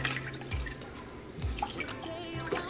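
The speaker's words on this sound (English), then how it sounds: "I'm gonna take a little bit of chicken broth and I'm gonna pour it" Chicken broth is poured and splashes into a crock pot in a few short glugs, close by, with faint drips between.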